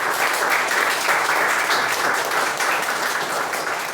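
A church congregation applauds at a bazaar gathering, a steady, dense wash of many hands clapping together, fairly loud and continuous throughout with no break.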